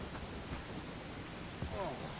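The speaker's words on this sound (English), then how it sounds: "Nice rainy day." Steady rain falls in the video game Bellwright, a soft, even broadband hiss that continues unbroken throughout at a fairly low level.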